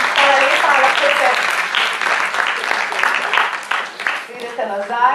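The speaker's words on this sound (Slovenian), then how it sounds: "še en aplavz" Applause from an audience at a pear festival event, broad clapping spread across the room, mixed with voices talking over it, fading somewhat toward the end.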